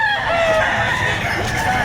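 A rooster crows loudly and close at a chicken market in Batangas, its call stretched over a busy, noisy background with no talking.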